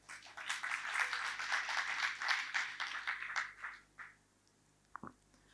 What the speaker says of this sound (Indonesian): Berikan tepuk tangan buat tim Praise and Worship.